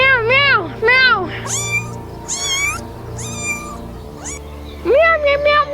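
A person imitates a cat, meowing repeatedly in drawn-out, rising and falling calls, loud and close with short pauses between.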